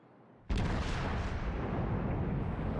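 A tank gun fires a ranging shot in a video game: a single sudden, heavy boom that hits hard and then rolls on as a loud, sustained rumble with no voices.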